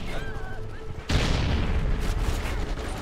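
Vector submachine gun fire in the video game Call of Duty Ghosts: a sudden loud burst of rapid shots that rolls into sustained booming battle noise, close and dominant.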